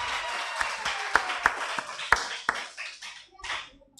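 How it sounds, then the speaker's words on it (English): Scattered hand claps from a small audience at a law society press and public engagement session, with a few sharp individual claps standing out before the clapping thins and fades over about four seconds. "A hand clap."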